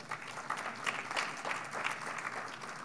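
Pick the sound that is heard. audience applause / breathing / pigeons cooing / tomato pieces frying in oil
audience applause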